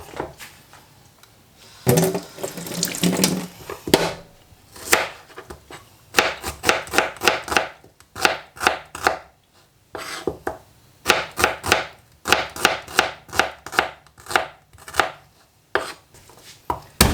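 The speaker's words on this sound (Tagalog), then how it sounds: "Mag-iwa muna tayo ng mga gagamitin natin, gaya ng sibuyas, bawang at luya." Knife chopping onion, garlic and ginger on a board, rapid rhythmic bursts of crisp close taps separated by short pauses, loud and near, no talk.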